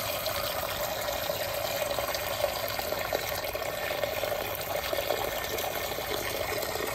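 Water poured into a filter funnel over wet filter paper in a school chemistry lab, a steady continuous trickle and splash running evenly throughout at moderate level with no talking.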